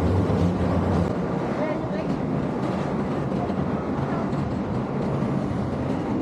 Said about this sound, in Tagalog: Ayan yung train, oh.